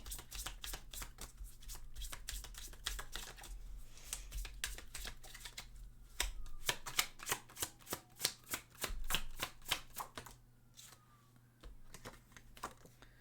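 Tarot cards being shuffled by hand, a long run of quick, crisp riffling snaps and slaps, close and fairly loud, with denser bursts in the middle and no talking.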